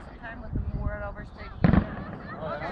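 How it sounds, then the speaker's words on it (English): Fourth of July fireworks in Grand Rapids, Michigan, in 2014 thump and crackle at a distance, with a loud burst near the middle. People talk nearby over the explosions. "The fireworks have started."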